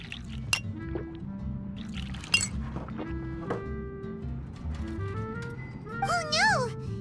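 In the video game Genshin Impact, two sharp glass clinks ring out early, then juice pours softly. Game music and a character's voice run underneath, and the voice gets louder near the end.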